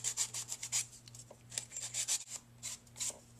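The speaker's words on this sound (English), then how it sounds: "you just sand the crease" Sandpaper rubbed back and forth over a folded paper crease for a card-making project, a quick series of soft, close scratchy strokes over faint steady hum.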